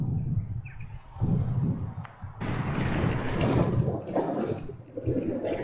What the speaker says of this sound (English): this wind today is pretty tough